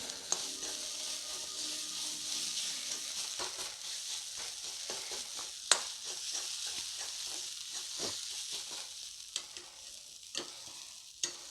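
Chicken masala frying in a pan with little oil, stirred continuously: a steady close sizzle broken by repeated scraping and clicking stirs, with no talking.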